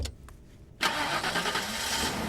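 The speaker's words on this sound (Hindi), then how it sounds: "गाड़ी स्टार्ट कर।" A car engine cranks and catches abruptly, then settles into a steady, fairly loud running rumble up close, with no talk over it.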